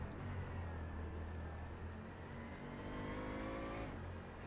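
The engine of a Bentley Continental GT3 race car at Palm Beach International Raceway drones steadily at high revs, with rising gear pulls and a continuous loud roar.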